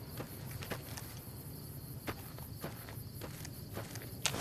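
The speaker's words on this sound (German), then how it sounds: "Ich habe irgendwie gerade Schritte gehört." Footsteps from the video game Fallout: New Vegas (Old World Blues), a series of soft, irregular steps over a steady game ambience with a high insect-like hum, no talking.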